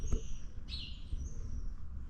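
Birds chirp outdoors in faint, high, brief calls over a low steady rumble of background noise, with no voices.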